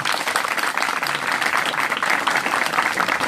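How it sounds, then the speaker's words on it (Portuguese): A lecture audience at Unicamp applauds steadily and densely for several seconds, a continuous wash of many hands clapping at close to moderate distance without pause. "Salva de palmas aqui pro Gianotti."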